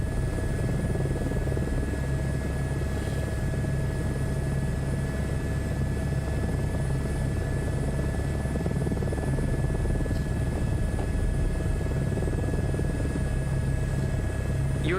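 A helicopter flies in Microsoft Flight Simulator 2024, with a steady rotor thrum and a constant engine whine under it. The sound stays close and even for the whole stretch, with only a faint trace of a voice.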